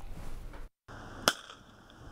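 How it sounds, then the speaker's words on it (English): A single sharp pyrotechnic firework bang, fired to scare vultures from a water tower, cracks out once, distant and brief, against a dull outdoor rumble with a short dropout just before it. "the city is basically shooting off fireworks in hopes of chasing off dozens of those pesky vultures"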